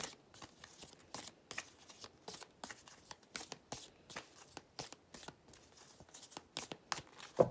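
Tarot cards being shuffled and cut, a long run of quick crisp riffling snaps and soft slaps in an irregular rhythm, close and quiet, with no talking.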